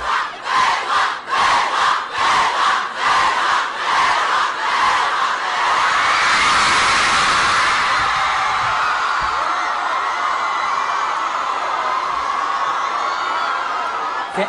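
A large crowd of fans on the Champs-Élysées erupts in loud rhythmic chanting, then a sustained roar of screaming and cheering that swells and carries on.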